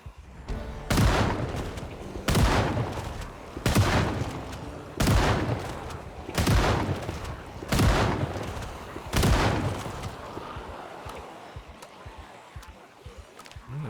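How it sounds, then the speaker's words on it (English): Video-game firearm gunfire in repeated bursts, roughly seven sharp volleys spaced about a second apart, loud and close, each with a short booming tail before the shooting stops. "it doesn't matter how low your stamina is, you are just as effective with or without empty or full stamina. And it doesn't consume anything while you're shooting either"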